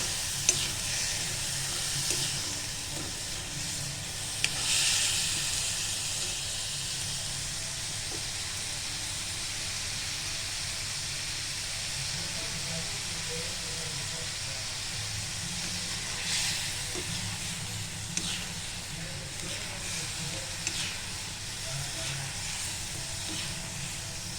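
Prawns sautéing in a pan, a steady loud sizzle with stirring scrapes throughout, bursts of hissing steam near the start and again toward the end, no voices.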